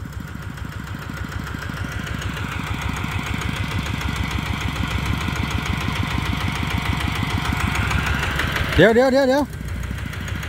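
A Kubota RT155 walk-behind tractor engine chugs steadily while tilling a rice paddy, its low rhythmic firing pulses holding throughout; a sharp rising whine surges near the end, and people talk briefly over it.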